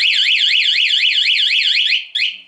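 A Honda MSX motorcycle's anti-theft alarm wails in a loud, close siren with a rapid rising-and-falling warble. It runs steadily, breaks off briefly near the end, then restarts. No voices.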